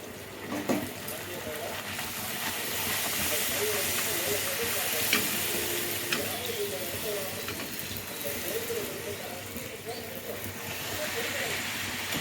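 A puri fries in hot oil with a steady, close sizzling hiss that runs unbroken throughout, with a few faint crackles and light pops on top.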